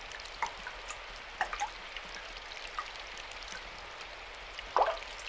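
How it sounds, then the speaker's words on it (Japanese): Rain and running water in the visual novel game Symphonic Rain, a soft steady wash of rainfall with faint scattered drips and a louder splash near the end, no voices. "水の流れる音がする？"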